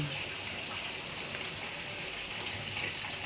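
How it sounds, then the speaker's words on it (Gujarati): Steady rain pours outside in a dense, continuous hiss with faint drips, no voices present. "બહાર વરસાદ આવે છે એ માટે થોડો અવાજ આવે છે"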